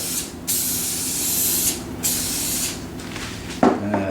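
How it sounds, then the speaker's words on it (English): Two long hissing bursts from an aerosol cooking spray, each lasting over a second, followed by a clatter near the end. "give this a spray of cooking spray"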